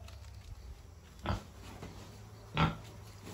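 Pigs on a farm before feeding give two short grunting oinks about a second apart, fairly faint against a quiet background hum.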